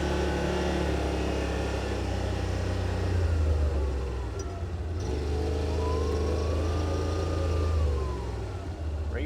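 A 2023 Yamaha RMAX side-by-side drives in trail mode, its engine humming steadily with rising whine-like tones from the drivetrain, moderately quiet, with faint voices in the background.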